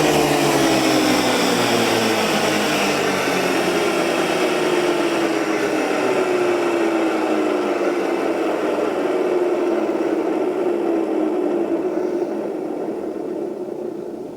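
Mower deck motors on an old electric garden tractor spinning down after being unplugged, a loud whining hum that slowly falls in pitch and fades over many seconds, close, with no talking.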